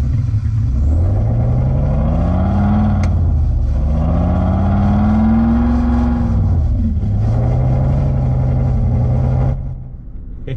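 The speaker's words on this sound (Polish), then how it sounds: "to nam bulgota ten silnik V8" A Sound Racer gadget plays a V8 engine burble through a car while it stands still, giving a loud, continuous low rumble with slow rising and falling revs, fading slightly at the end.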